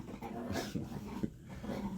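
A dog growls and snarls in short bursts close by, low rumbling vocalizations rising and falling over roughly two seconds, with faint background noise and no clear speech.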